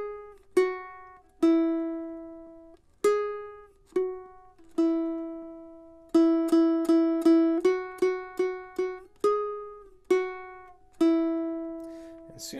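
Hot Cross Buns picked one note at a time on a small Loog guitar, clear plucked strings ringing out and decaying, a slow three-note melody with a quicker run of repeated notes in the middle, played solo.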